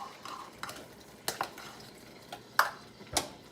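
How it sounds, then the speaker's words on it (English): Scrambled egg sizzles softly in hot oil in a frying pan, a faint steady hiss under several sharp clinks and scrapes of a spoon against the pan. "And so I'm going to put that in the oil. You can hear it sizzling a little bit."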